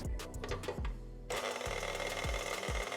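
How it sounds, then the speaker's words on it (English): A stand mixer with a dough hook works keto cinnamon roll dough at low speed, giving a steady mechanical whir with rhythmic low thumps as the dough turns and slaps the bowl, loud and close with no talking. "Add the dough hook attachment to your mixing machine and let this mix for about 5 minutes on"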